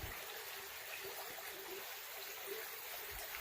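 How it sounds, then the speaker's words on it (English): Rainy Creek on the Ouachita Trail flows in a soft, even rush of running water, faint and continuous throughout with a few low bumps, no voices. "Rainy Creek is what this creek is."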